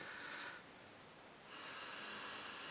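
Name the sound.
sniffing beer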